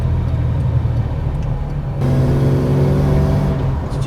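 A Ford Falcon XY daily driver with worn patina running along the road, its steady low engine drone and rumble continuing throughout, swelling slightly halfway as it pulls harder, close and loud with no talking.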